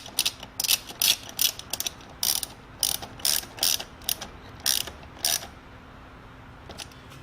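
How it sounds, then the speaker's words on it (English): A ratchet tightens the cold air intake clamps at the throttle body of a 2020 GMC Sierra AT4 6.2L V8, giving close, crisp clicking bursts in a rhythmic series, then falling quiet. "tighten down these two here, the one that connects it and secures it to the throttle body"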